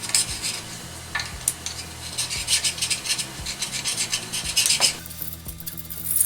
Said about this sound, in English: I have this scraper that was made out of a file. It's really hard, and it does a real good job of removing gasket material.